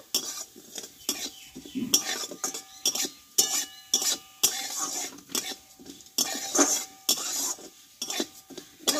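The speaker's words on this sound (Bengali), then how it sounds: "ডালটা একটু আমি একটু লালচে করে ভেজে নেব।" Dal being fried in a kadai until reddish, with a metal spoon clinking and scraping against the pan in uneven strokes over a faint sizzle, heard close up and without talking.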